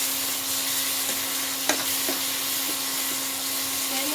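Paste of ground tomato and green chillies stirred into mutton frying in a pan for a spicy curry, giving a steady loud sizzle with a few sharp scrape-like clicks from the stirring.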